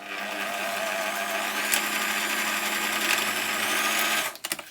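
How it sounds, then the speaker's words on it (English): A sewing machine runs a straight stitch along thrifted pajama-fabric pants, a steady close whirring drone that holds for several seconds before stopping abruptly at the end. "I'm going to sew a straight stitch here."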